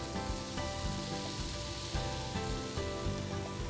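Diced apples cooking in a big pat of melted butter, a dense, steady close sizzle with light popping crackles throughout.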